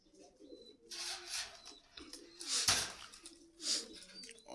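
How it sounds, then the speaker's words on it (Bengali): Racing club pigeons wearing BRPL rings coo at a pigeon market in Meradia Bazar, Khilgaon, Dhaka, in several soft, rounded bursts with short pauses between them, close by and without talk. "এগুলো সব ক্লাবের কবুতর"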